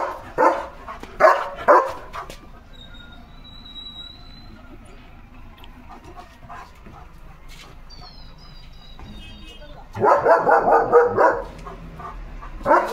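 A dog barks in quick bursts, first several sharp barks close by, then a pause with distant bird chirps and a vehicle arriving, followed by another rapid run of barks.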